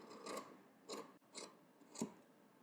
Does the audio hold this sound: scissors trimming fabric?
yes